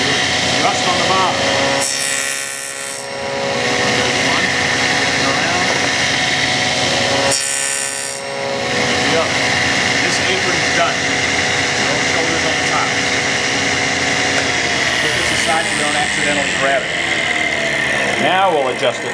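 Power saw cutting tenons in wood, a steady loud buzzing whine that runs almost the whole time, with two short pauses or dips and shifting pitch toward the end as the blade works through the stock.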